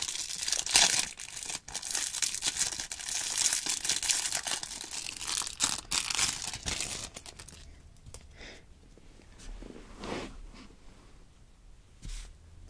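Packaging from a Magic The Gathering Kaldheim bundle crinkles and tears up close, a dense rustle of wrapping for several seconds that thins into sparse soft handling noises.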